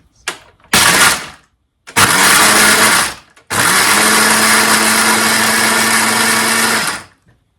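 A blender grinds hazelnuts into flour in loud whirring bursts: two short pulses, a longer run, then a sustained steady grind of about three and a half seconds before it stops.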